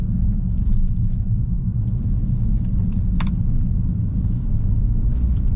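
Steady low engine rumble of a 2019 Mercedes A35 AMG sedan in Sport Plus mode heard from inside while driving, a constant droning hum with a faint brief click partway through.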